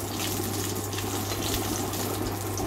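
Steady running tap water splashes over a handful of ginger pieces being rinsed in a home kitchen sink, a continuous close gushing flow at an even level throughout.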